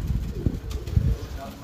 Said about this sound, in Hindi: ये भी काबिल गौर कबूतर है